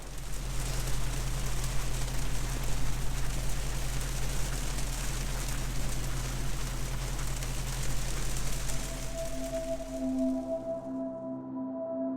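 Steady rain falls all around a sailboat, a dense even hiss of drops on deck and water that holds for about ten seconds before cutting off, with faint tones lingering after.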